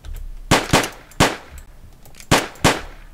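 Gunshots from the video game Gunpoint crack out in two pairs of sharp, loud reports, separated by quieter moments with no talking.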